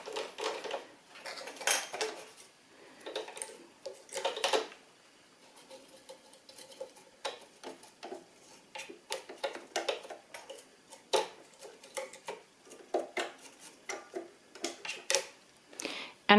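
A sewing machine presser foot and bobbin holder being cleaned, with irregular small clicks, taps and scraping rattles in uneven bursts, close and fairly quiet, with short pauses between.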